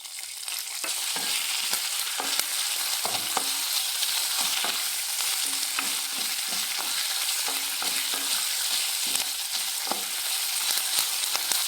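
Curry leaves fry in hot oil in a pan, giving a steady close sizzle with scattered crackles and pops throughout and no talk.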